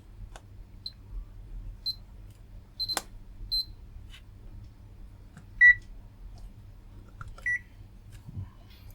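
An Aneng AN870 digital multimeter in diode mode, tested on a 1N4007 silicon rectifier diode, gives short electronic beeps, each one brief and distinct, with faint clicks and handling noises between them in a quiet room.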